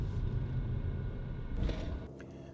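A small SUV runs through a pedestrian autonomous emergency braking test, with a low, steady rumble of the vehicle moving up close and a brief surge before the noise drops away near the end.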